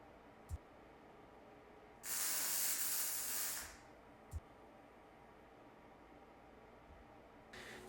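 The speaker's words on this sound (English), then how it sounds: "I'm just MIG welding this because the plasma cut edges and the light mill scale on this floorboard is a little more tolerant to that" A MIG welder fires one steady, crackling hiss lasting about a second and a half while tacking steel floorboard and pedal mounts, set in a quiet room with a few sharp clicks before and after.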